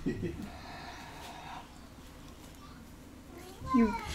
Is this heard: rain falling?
no